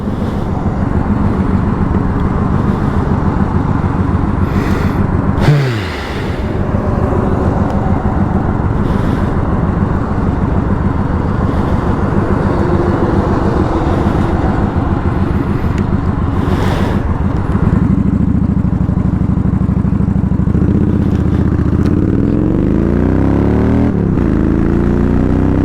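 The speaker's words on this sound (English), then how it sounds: "traffic gets pretty busy around this time" Vehicles pass one after another on a busy road, forming a continuous loud roar with engine surges and whooshing passes. Wind buffets the microphone throughout, a brief dip breaks the flow early on, and heavier rumbling comes toward the end. No one talks.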